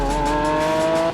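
Lamborghini Aventador with a V12 engine driving, a loud steady engine tone with strong harmonics holding near and continuous for a little over a second.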